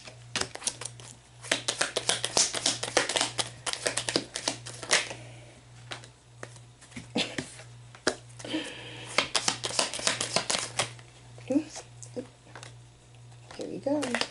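Tarot cards being shuffled by hand, a quick run of crisp riffling taps and flicks in repeated bursts close to the mic, with a steady low hum and some talking in places.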